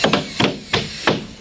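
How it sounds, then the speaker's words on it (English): A hammer nailing a drywall panel into place, four sharp, evenly spaced blows, close and loud. "The bottom edge rests against the lower row of drywall as it's nailed and screwed into place."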